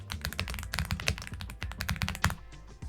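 Rapid typing of a command-line instruction on a computer keyboard produces a dense run of crisp, close key clicks for about three seconds, ending with a harder keystroke like the Enter key, with no speech.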